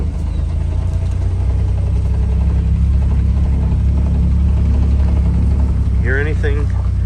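A Bugeye Sprite's engine idles after starting, a steady low rumble running throughout at close range, with a voice speaking briefly near the end over the engine.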